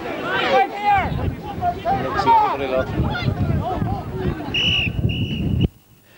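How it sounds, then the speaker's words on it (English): At the end of an under-16 Gaelic football final in 1999, a referee's whistle sounds as a long, clear tonal blast followed by a second, shorter one over crowd chatter and outdoor wind, then cuts off abruptly. "Sean McGuigan blows the final whistle"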